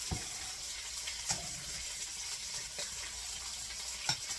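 Bacon frying crisp in a pan, a steady soft sizzle and crackle running throughout, with a few sharper pops and ticks standing out now and then.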